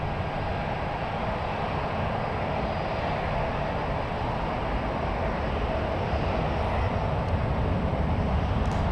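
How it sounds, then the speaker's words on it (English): A Boeing 777 airliner passes at San Francisco, a steady, broad roar that holds loud and even for several seconds without a clear rise or fade. "All right, there goes the 777."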